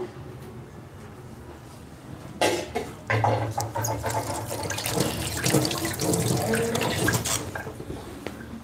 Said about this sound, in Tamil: நான் வந்து கை வாஷ் பண்ணிட்டு வந்துடுறேன்